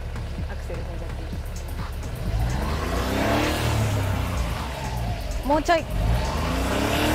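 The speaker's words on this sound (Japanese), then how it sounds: "ちょっと回転数上げてもらって、 はい、 4000回転ぐらいまでアクセル踏んじゃっていい？" A Honda Beat kei car engine under restoration, revved to about 4000 rpm, rising and falling in pitch while people talk nearby.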